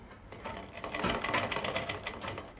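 Sewing machine stitching close along the edge of a fine piping seam on suit fabric, a steady rapid mechanical whir with quick stitch pulses, close and alone.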